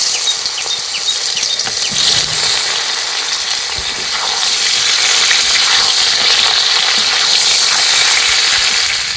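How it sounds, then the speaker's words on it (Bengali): Large pieces of young jackfruit frying in oil in a wok, a loud continuous hissing sizzle that swells slightly partway through, close up, with no voices. "তেলের মধ্যে এই এঁচোড়গুলো ভেজে নেব।"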